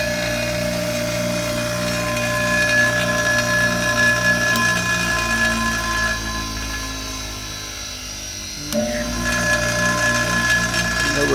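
A Tool Shop bench grinder runs steadily with a buzzing vibration and dense tonal whine, dipping briefly near the end as the motor note shifts, then resuming at full strength, loud and close.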